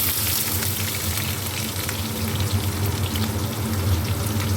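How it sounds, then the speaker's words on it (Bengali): Onion frying in hot oil with whole spices and bay leaf in a pan, a steady close sizzle and crackle continuing without pause and without talk. "তো পেঁয়াজটা দিয়েছি, এই পেঁয়াজটা একটু ভাজা ভাজা হোক"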